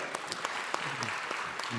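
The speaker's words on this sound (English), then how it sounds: "Ladies and gentlemen, can we have a round of applause?" Audience round of applause at a corporate panel discussion during an open day event, steady dense clapping throughout with some sharper individual claps and a few voices mixed in.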